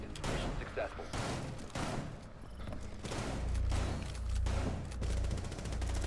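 Repeated gunfire bursts from the tactical shooter game Rainbow Six, loud and dense with deep booming low end, sounding close, mixed with players talking over the shots.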